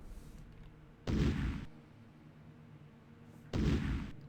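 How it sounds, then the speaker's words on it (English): An explosion knocking out a force field generator in Space Quest III, arriving as two separate loud booms a couple of seconds apart over a quiet background, each a short harsh burst. "The explosion disables the force field generator."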